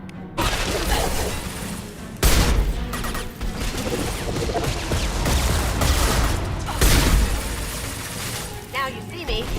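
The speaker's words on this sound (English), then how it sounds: "That shotgun is pretty good." Shotgun blasts in Mass Effect 2 boom and crash repeatedly amid dense combat noise, with several sharp, loud reports standing out over a constant clatter of battle and voices mixed in.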